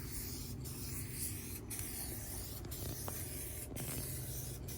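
A spray gun lays a very light coat of paint onto an interior door panel, giving a steady, close hiss that runs continuously with brief pulses as passes overlap, with no talking.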